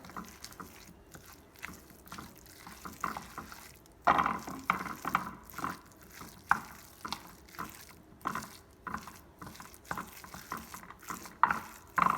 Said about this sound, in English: all I'm going to do is get this all mixed up together really well